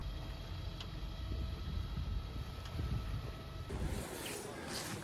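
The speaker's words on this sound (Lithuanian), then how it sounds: "Kol lietus lyja ir vėjas pučia" Steady wind buffeting an outdoor microphone with a rushing, rain-like hiss near Kronborg Castle in Denmark, broad and constant throughout with no voices, the texture brightening slightly in the final second.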